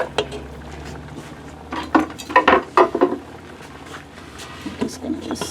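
String beans and vegetables are tipped into a pot and stirred, giving clusters of metallic clanks and scraping clinks over a low background hum, with a few scattered knocks afterward.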